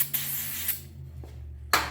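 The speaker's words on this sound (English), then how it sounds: "Go ahead and spray a little bit on your rag." Cleaner sprayed onto a rag during work on a 1958 GMC pickup brake conversion: several short, sharp hissing spritzes in close succession with quiet gaps between, close by.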